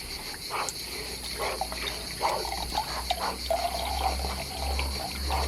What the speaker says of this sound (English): The water is here. Start to pump it.